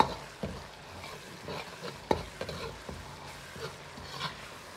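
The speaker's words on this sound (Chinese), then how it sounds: "继续翻炒均匀" Spicy tiger-skin eggs stir-fried in sauce, a spatula scraping and knocking against the wok in irregular strokes over a soft, steady sizzle, close up with no voices.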